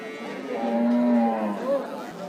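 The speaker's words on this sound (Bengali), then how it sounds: "একটা গাভী বাধা আছে" A cow moos once at a cattle market, a long close low call that rises and falls over about a second, with a faint shorter tail and background murmur.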